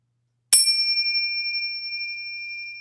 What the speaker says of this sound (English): We'll start with our little bell here.